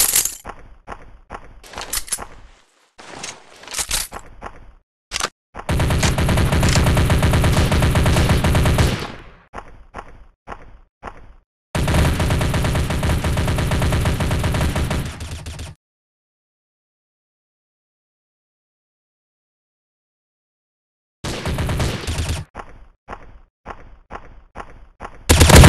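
Mobile FPS war game Special Ops: Gun Shooting delivers loud stretches of sustained automatic gunfire alternating with clusters of sharp single shots, broken up by several abrupt silent gaps.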